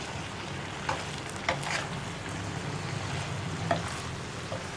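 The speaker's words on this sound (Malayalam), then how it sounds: "ഇതൊന്ന് പതുക്കെ ഇളക്കി മിക്സ് ചെയ്തെടുക്കുക." Masala bread being gently stirred in a pan: soft sizzling throughout, with a few light spatula scrapes and taps at irregular intervals.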